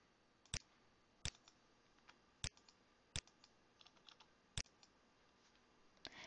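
Keystrokes on a computer keyboard entering a time into an attendance management website, sounding as about a dozen crisp, separate clicks at an uneven pace, with several louder taps standing out against a quiet room.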